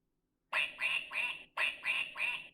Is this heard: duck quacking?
yes